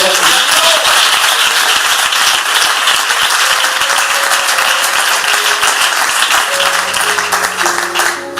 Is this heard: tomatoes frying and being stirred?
no